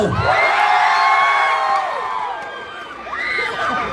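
A rally crowd shouts and cheers in Pasig, a loud swelling roar of many voices with whoops that fades briefly, then surges up again toward the end.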